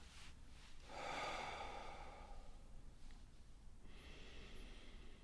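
Slow, deep breaths drawn in and let out during a calm somatic exercise for anxiety: a long airy inhale, a pause, then another soft breath, close and quiet.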